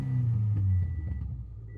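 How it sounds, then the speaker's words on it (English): A Subaru Forester engine revs up in a short, loud rumbling swell that peaks and then settles back toward idle. "Rev her up a little."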